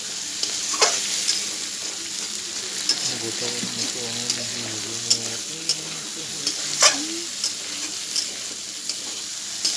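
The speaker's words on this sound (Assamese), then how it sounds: "এতিয়া সম্পূৰ্ণ মছলাখিনি মই লৰাই লৰাই ভাজি ল'ম ইয়াত।" A spice mix fries in a pan as a meat curry is made, with a loud, steady sizzle and repeated scraping strokes and clinks as it is stirred, and a faint voice briefly in the background.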